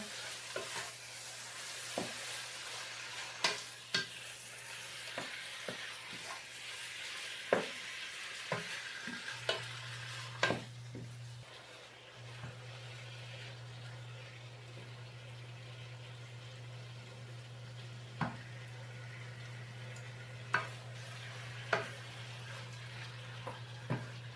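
Marinated chicken breast fries in a hot pan with a steady sizzle, and a utensil stirs it in irregular clacks and scrapes that recur across the whole stretch. No one speaks over the cooking.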